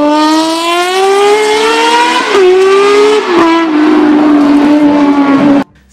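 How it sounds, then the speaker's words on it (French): A Honda CBX inline six-cylinder motorcycle engine howls loud and close, its smooth high-pitched wail climbing and dipping through shifts before cutting off abruptly near the end. "Ils sortent un 6 cylindres en ligne, un CB1000X."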